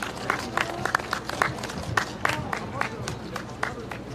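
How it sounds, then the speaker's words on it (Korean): An outdoor crowd at a joint campaign rally in Suyeong-gu, Busan, claps to welcome a volunteer citizen speaker, sharp individual claps rising from a busy background of crowd noise and chatter, fairly close and lively. "정현아 연설원을 따뜻한 박수로 맞아주시면 감사하겠습니다"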